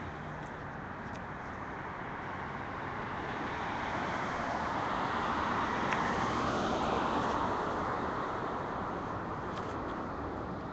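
Steady street traffic at the corner of 7th and Washington in Oakland, a continuous broadband roar of passing cars that swells slightly in the middle, moderately distant, with no talking.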